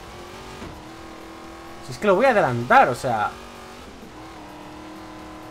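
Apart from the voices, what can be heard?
Twin Mill Hot Wheels car driving in video game Forza Horizon 3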